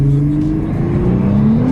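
Liberty Walk widebody Lamborghini accelerating, a loud, close engine roar with a steadily rising pitch through a short continuous pull.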